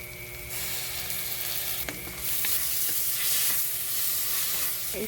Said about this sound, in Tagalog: Gisa lang natin.